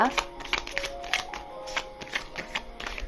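Oracle cards riffle and flick in quick, uneven bursts of crisp papery snaps close to the microphone, with a voice talking underneath.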